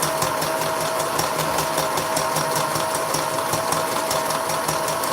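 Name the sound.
sewing machine sewing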